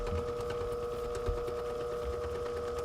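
A pump runs during a setup for making solid nitrogen, giving off a steady mechanical hum with a fast, even whirring rattle. It is moderately quiet, continuous and has no speech.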